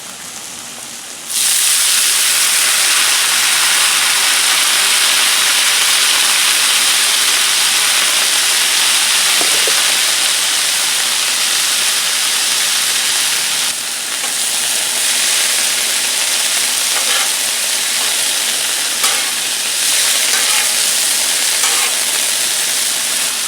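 Corn and vegetables sizzle in oil on a Blackstone griddle, a loud, steady broadband frying hiss that kicks in after a quiet first second and carries on with small crackles and pops, no voices.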